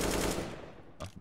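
Automatic AK rifle spray in Counter-Strike: Global Offensive, a dense, loud burst of rapid fire that tails off after about half a second, followed by a short separate shot or clatter near the end.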